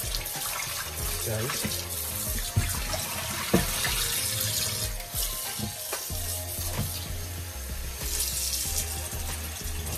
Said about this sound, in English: give this a rinse first